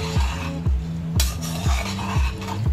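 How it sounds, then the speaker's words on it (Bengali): A spatula stirs fried rice with cashews and raisins in a pan, making a run of repeated scraping and clattering strokes against the metal over a steady tonal background. "এবারে চালের সাথে কাজু আর কিশমিশগুলোকে খুব ভালো করে মিশিয়ে নেব।"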